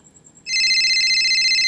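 A cellphone rings loudly and close by, a bright electronic trill that starts abruptly and holds steady, with no one talking over it.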